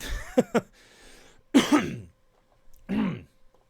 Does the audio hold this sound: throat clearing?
yes